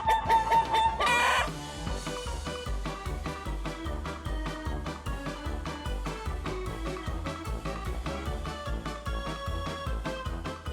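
Chickens cluck and crow in quick, rhythmic bursts over a steady repeating beat, with a loud opening squawk and then an even, pulsing pattern throughout.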